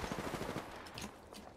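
A short, rapid burst of automatic gunfire rattles in the video game Apex Legends, fairly faint and fading out within a second or so, with no talk over it.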